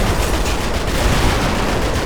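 A mini tank fires in a modded GTA V game, producing dense, continuous gunfire that stays loud and unbroken throughout.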